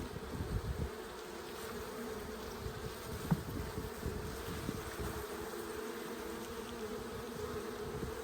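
Bees from a weak, failing hive in late fall make a steady, dense buzz throughout, with a few louder passes close by.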